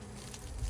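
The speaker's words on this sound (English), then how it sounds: "See the bees coming in and out here." Honey bees flying in and out of a garden beehive, a close, continuous buzzing hum heard briefly with no talk.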